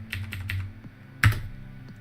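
Keys clack on an Atari computer keyboard while a password is entered: a few quick keystrokes, a pause, then one sharper tap, close and fairly quiet.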